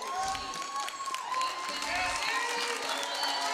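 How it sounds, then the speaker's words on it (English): Crowd applauding and cheering in a gym at a girls' high school basketball game, Grant vs South Salem, a steady wash of clapping with scattered shouts and voices mixed in throughout. "a big round of applause for Avina Westbrook"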